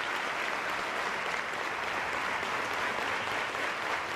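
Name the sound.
applause from parliamentarians in Cuba's National Assembly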